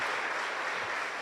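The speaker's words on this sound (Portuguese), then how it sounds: "Palmas para Jesus." A church congregation claps together in praise, a dense, even burst of applause from many hands that carries on without a break.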